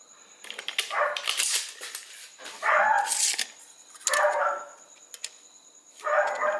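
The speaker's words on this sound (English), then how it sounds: "Dog next door have an epileptic fit." A dog next door barks in bursts of several sharp yelps, repeating about five times in uneven clusters at moderate distance against a quiet background.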